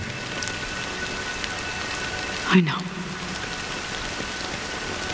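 Steady rain falls across the scene in Honkai: Star Rail, a constant soft wash of drops with a brief louder splash midway, while a voice speaks briefly over it.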